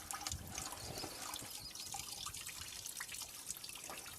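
Old oil drains from the drain plug of a REO M35 truck in a steady, close trickle of liquid with small irregular splashes that run throughout.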